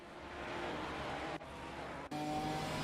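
A Ginetta race car at Spa in a sim racing game: a faint, steady engine drone heard from on board, briefly cut twice before settling into a steady tone, with no talking.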